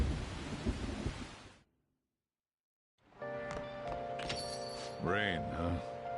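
Rain and rolling thunder from the video game Persona 5 Royal on PS5. A dense, loud storm wash cuts to brief silence, then returns with rain under tonal game music and a voice.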